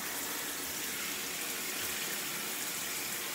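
A shower runs with a steady, even hiss of falling water, close and continuous, with no voices.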